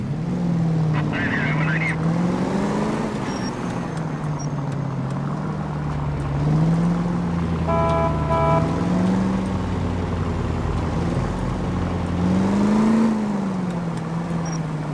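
A car driven in the video game L.A. Noire, its engine droning steadily and rising and falling in pitch as it accelerates, with a brief chime partway through.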